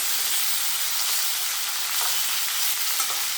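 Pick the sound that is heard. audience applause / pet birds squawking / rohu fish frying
rohu fish frying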